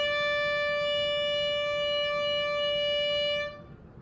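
An oboe holds a single steady, reedy D as one continuous, bright, close note for about three and a half seconds before it stops abruptly.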